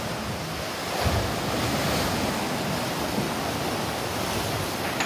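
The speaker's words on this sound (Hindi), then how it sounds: "यह अचानक पानी का भाव तेज़ हो जाता है और अचानक स्लो हो जाता है।" Sea water surges against the rocky shore at Cape D'Aguilar, a steady loud roar of surf and wind with a swell rising around the first second and no talk over it.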